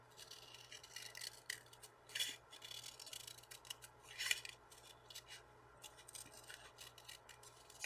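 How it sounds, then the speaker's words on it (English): Scissors snip around a paper shape for card making in quiet, close cuts. Short crisp snips come at irregular intervals, with a few sharper cuts standing out between soft rustles of paper. "fussy cutting is best when you move the actual paper and not the scissors"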